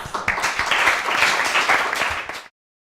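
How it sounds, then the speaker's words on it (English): An audience applauds steadily at a class presentation, a dense, fairly loud wash of clapping lasting a couple of seconds before cutting off abruptly. "Everybody, round of applause."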